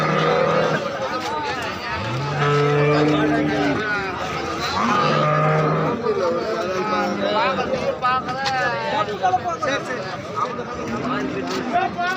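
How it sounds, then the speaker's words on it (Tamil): Cattle low repeatedly at a busy outdoor livestock market, with long deep moos rising over a constant crowd murmur while people talk nearby. "அருமையான கை கறவை பெரிய மாடு, அருமையான மாடு."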